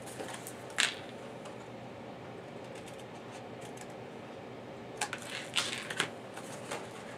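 Scissors cutting small squares off cardstock: a few sharp, close snips and paper crunches, one early and a cluster near the end, over a steady low background hiss.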